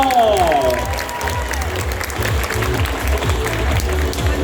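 Loud, sustained crowd applause at a school singing and dancing contest award ceremony, a thick wash of clapping with some cheering and a short musical tone at the start.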